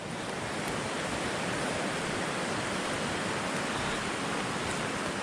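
Steady rushing creek water flowing continuously and loud nearby, a broadband roar with no breaks, heard on a solo backpacking trip through a basin.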